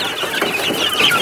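Broiler chickens in a warm brooder give a steady, close run of soft clucking and chirping, with no talk over it.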